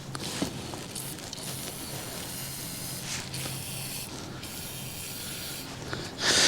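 Aerosol spray hissing onto the lug nuts of a worn, badly damaged tire on outdoor firewood equipment, a steady broadband spray with a louder close burst near the end.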